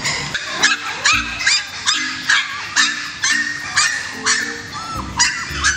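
Poodle puppies for sale, a litter yipping and whimpering close by, with repeated high-pitched barks and whines in a steady, overlapping rhythm.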